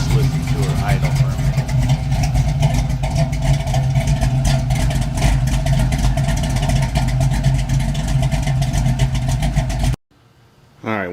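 A 1946 Ford engine idling, a loud, steady lumpy rumble with faint tapping, then it cuts off abruptly to near silence before a brief sound returns.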